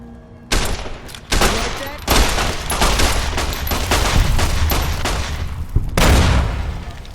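Gunfire and a grenade blast in the Fallout: New Vegas video game: sudden bursts of rapid shots build into a sustained loud barrage, with a heavier explosive thump near the end, all close and intense.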